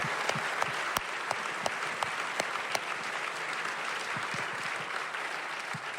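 An audience claps steadily, a dense patter of many hands with a few sharper individual claps standing out, continuing for several seconds.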